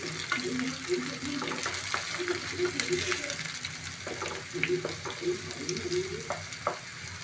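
Chopped onion and garlic fry in hot oil for a dried-fish mash, giving a continuous close sizzle with scattered stirring clicks and scrapes of a utensil against the pan, moderately loud throughout.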